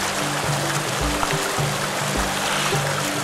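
A creek flowing through a valley, its water rushing and burbling steadily close by, with some low thumping gurgles underneath and no voices.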